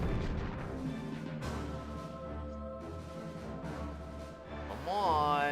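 Starship weapons firing in the game Star Trek Bridge Commander, a dense rumbling barrage of tonal booms over a droning background, ending in a rising sweep.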